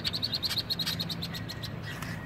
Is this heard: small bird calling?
yes